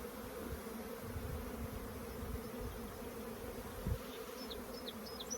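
Honey bees buzz around an open, queenless hive during a colony split, a faint, steady hum of many insects with one brief closer bump near the end.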